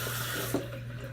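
Cold tap water runs steadily into a sink during a wet shave rinse, a constant close splashing flow with a small bump midway.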